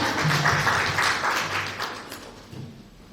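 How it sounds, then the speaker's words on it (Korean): Audience clapping at a startup leaders' forum in Daegu as a presenter is welcomed for an IR pitch, a brief burst of applause that tapers off within a few seconds. "큰 박수 부탁드립니다."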